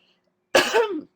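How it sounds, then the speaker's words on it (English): One short, close cough with a throaty rasp, standing alone in an otherwise quiet moment. "with an awkward cough"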